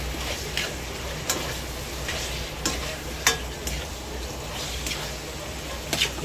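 Pork binagoongan with string beans sautéing in a pan, a steady close sizzle broken by several sharp scraping stirs, alone without talk.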